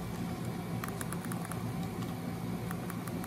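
Buttons on a Sony PS5 DualSense wireless controller click lightly in a scattered, rapid patter, faint against a steady background hiss.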